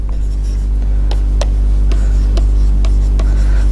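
Marker or chalk strokes on a board during a calculus lecture, a few short scratchy squeaks spaced irregularly over a steady low hum, fairly close, with no talking.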